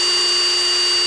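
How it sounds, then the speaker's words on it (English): A drill bores pilot holes into a boat hull while an aerator kit is fitted, giving a continuous high-pitched whine that stays steady and close throughout the short burst, with no voices. "now we're drilling four pilot holes here"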